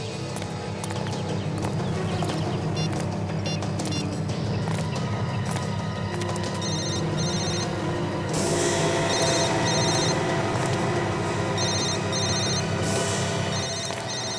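A mobile phone rings somewhere close by, its electronic ringtone repeating in short, regular bursts over a dense, busy background hum.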